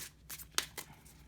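Tarot cards being shuffled by hand, a few soft papery riffles and one sharper flick, close and quiet, with no talking.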